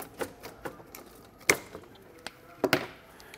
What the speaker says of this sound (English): We're just using a pair of tin snips to cut it out.